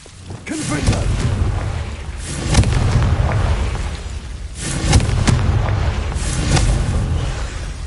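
The Confringo blasting spell in Hogwarts Legacy goes off as loud, booming explosions, with two strong bursts a few seconds apart and rumbling tails, alongside some voice.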